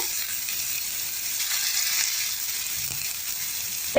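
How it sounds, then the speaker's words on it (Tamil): Cashews, fennel seeds, green chili and onion sizzle in hot oil in a pan for biryani, a steady close hiss of frying with no talk over it. "முந்திரியை போட்டு நல்லா வறுத்துக்கோங்க"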